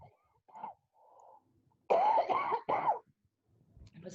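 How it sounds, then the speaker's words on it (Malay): Several harsh coughs in a quick burst, close and loud, preceded by a few softer throat sounds in a quiet room. "Masa kita kena batuk."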